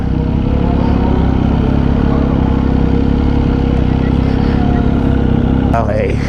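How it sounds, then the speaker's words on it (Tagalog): MV Agusta motorcycles at a breakfast ride meetup produce a loud, steady engine rumble and idle throughout, close by, with a brief voice near the end. "maraming motor dito"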